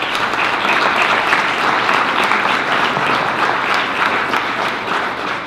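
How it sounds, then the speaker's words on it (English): Parents and attendees at a school district board of education meeting give a round of applause, a dense, sustained clatter of many hands clapping at an even, fairly loud level throughout. "I think all of the parents here deserve a round of applause for all of their support."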